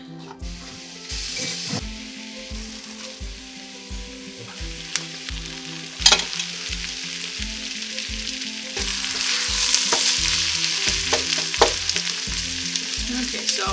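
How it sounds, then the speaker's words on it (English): Onions cook down and sweat in a pan, a continuous soft sizzle with occasional stirring scrapes and clinks, rising louder toward the end. "now all we're doing is just cooking down the onions"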